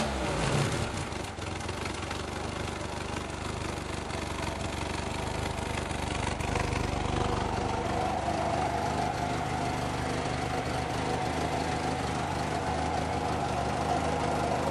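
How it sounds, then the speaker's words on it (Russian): A car engine idles steadily after exhaust pipe repair, a continuous low rumble with a slightly knocking, mower-like chug that holds at an even level, close to the microphone. "Осталось завести и проверить, как же работает выхлопная труба."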